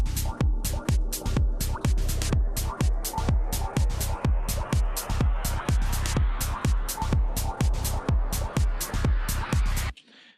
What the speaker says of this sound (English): So we've got this effects sweep here. It sounds like this.